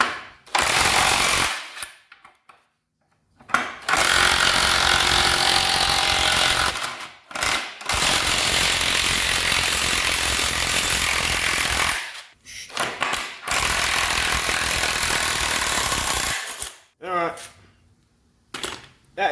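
An Ozito 18V 3-speed 400NM impact wrench runs in reverse to back out a big bolt, hammering loudly in several long sustained bursts separated by short pauses.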